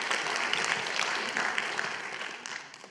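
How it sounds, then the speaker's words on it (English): Broad, moderately distant audience applause at a museum conference, a dense wash of clapping that holds steady for a few seconds and slowly fades. "I think everyone should clap at that"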